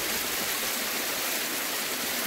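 A mountain waterfall in Uttarakhand pours in a constant, dense roar of rushing water, close and steady throughout with no voices.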